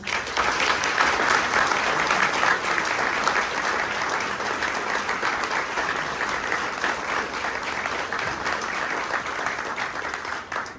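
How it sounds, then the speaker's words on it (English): Supporters at a youth center's annual banquet applaud, a sustained room full of clapping hands that holds steady for about ten seconds before tapering off. "Can everyone please give them a round of applause?"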